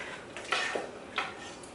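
Pancit chopsuey ingredients get mixed in a pan, with a few soft scrapes and clinks of a utensil against metal spaced over a quiet background.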